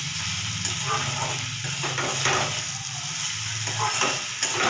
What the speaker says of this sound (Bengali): ব্যাস এবারে একটু 2-3 মিনিট সিমে ভেজে নিতে হবে।